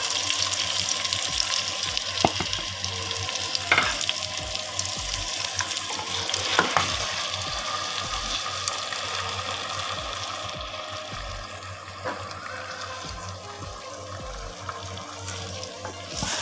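Boiled beef is tipped into a hot pan of matar gosht (peas and beef) and stirred, giving continuous frying sizzle with scraping and clinks of the spoon near the microphone.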